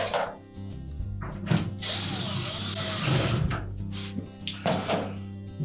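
Power driver running screws into the upper basket rails of a Whirlpool refrigerator, with a few short whirring bursts and a longer steady run in the middle, close and fairly loud, with clicks and knocks from handling the parts.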